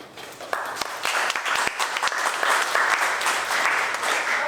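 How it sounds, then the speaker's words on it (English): An audience at a senior community awareness evening applauds a panelist, Mr. Robinson, with steady clapping that builds and holds for several seconds, a few sharper claps standing out near the start. "A round of applause for Mr. Robinson."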